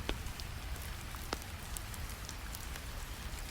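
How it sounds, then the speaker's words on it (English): Steady rain patters down, with scattered sharper drips landing on stones. No voices, just a constant wet hiss. "The rain continues its patient work, drop by drop on ancient stones."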